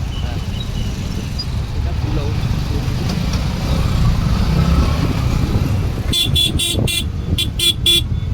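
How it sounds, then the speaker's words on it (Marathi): Road traffic backs up near a toll plaza under a continuous low engine rumble, then a string of short, sharp car horn honks bursts out loudly near the end. "बघा ट्राफिक पुढे टोल नाका आहे ना त्याच्यामुळे ट्राफिक झालेलं आहे"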